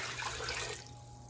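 Water pouring from a measuring cup into a pot of taco soup, a steady close splashing gush lasting about a second before tapering off, with no talking.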